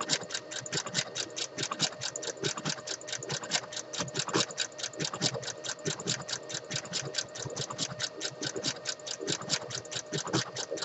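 A sewing machine runs steadily, stitching a honeycomb hem on fleece, its needle clattering in a fast, even rhythm close up with no pauses and no talking.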